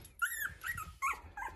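A newborn puppy from a fresh litter whimpers and cries up close in short, high, squeaky bursts, four or five thin whines with brief pauses between them.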